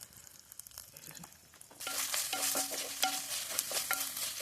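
Onion, green chilli and mint hit a hot pan at a campsite while cooking bagara rice, a quiet lead-in giving way to a steady loud sizzle with stirring scrapes and clinks, no talk.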